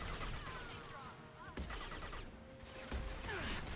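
Sustained automatic gunfire and impacts fill a Mass Effect 2 firefight, loud and continuous with a few sharper hits, mixed with game voices and effects.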